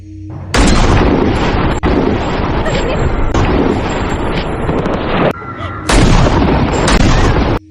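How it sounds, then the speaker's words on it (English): Rapid sniper rifle gunshots from a Jack Reacher film scene, fired from a distance at people on a lakeside trail; loud, dense blasts fill nearly the whole stretch with brief sharp breaks between volleys. "From a distance, he takes aim and fires, killing 5 random people"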